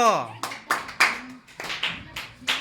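People clap for Jayesh during a party game of tossing a balloon and setting a cup upright. A voice opens the clip, then about seven sharp, separate claps follow at a steady beat.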